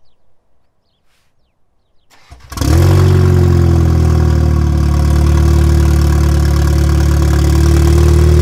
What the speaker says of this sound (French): j'ai envie de démarrer pour voir s'il y a réellement un changement